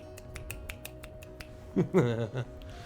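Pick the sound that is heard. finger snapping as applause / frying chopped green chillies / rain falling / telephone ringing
finger snapping as applause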